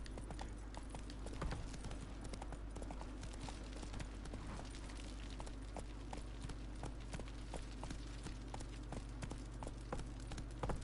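Roach the horse galloping in The Witcher 3: Wild Hunt, quiet rhythmic hoofbeats clip-clopping steadily throughout over a low ambient hum.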